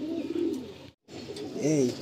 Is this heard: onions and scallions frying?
no